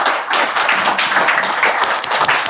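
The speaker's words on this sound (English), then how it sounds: "Let us give him a better clap." Audience applause at the launch event of an apprenticeship program for people with disabilities, steady dense clapping from a crowd indoors, loud and sustained.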